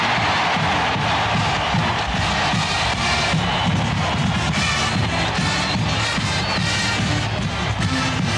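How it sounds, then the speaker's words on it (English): Sellout college football stadium crowd at Joe Robbie Stadium cheering before a Penn State game as the Blue Band performs, a loud, steady roar of many voices with brass music blended in. "The Blue Band's traditional pregame performance roused the sellout crowd as the Lions roared from the tunnel."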